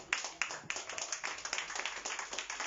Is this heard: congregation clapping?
yes